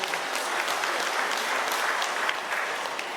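Applause from the audience at a women's forum meeting in Boven Digoel, a steady, dense clapping that fills the whole stretch without a break.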